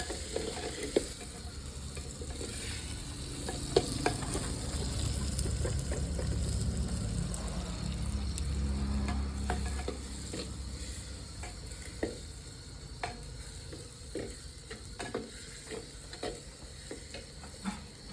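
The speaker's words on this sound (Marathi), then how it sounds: "दोन मिनटं आपण जरा परतून घेऊया" Khichdi sautéing in a clay pot over a village wood-fired stove: steady soft sizzling and frying with stirring and scraping, louder in the middle stretch and quieter at the end, with no talk.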